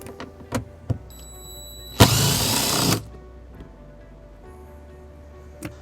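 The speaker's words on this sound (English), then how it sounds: "Now that exposes our screw that we're going to remove using a 10mm socket" A power ratchet with a 10mm socket backs out a panel screw on a 2020 Toyota Highlander, a single loud, roughly one-second whirring burst among scattered light clicks and taps.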